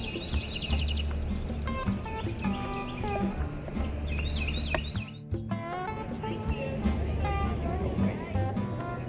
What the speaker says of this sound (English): It's like another sparrow.